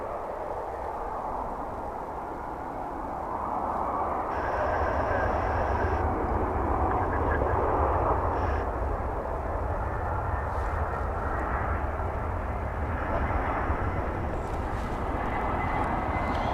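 An Avianca airliner in Star Alliance livery roars steadily at DFW Airport, a loud sustained jet engine rumble that swells slightly midway and holds, with no talk over it.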